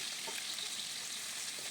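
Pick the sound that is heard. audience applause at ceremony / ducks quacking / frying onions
frying onions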